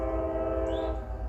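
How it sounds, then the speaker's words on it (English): A freight locomotive's loud, sustained horn blares close by in Abbeville with a rich chord of tones, over the low rumble of the locomotive. "Alright, he done blowed the horn at me."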